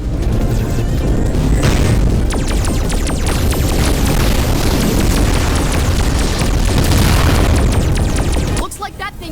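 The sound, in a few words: homing bombs exploding in the Voltron VR Chronicles video game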